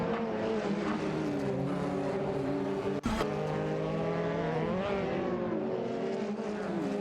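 Race car engines in an AI racing video game drone and shift pitch continuously, packed closely together, with a brief sharp burst near the middle and no talking.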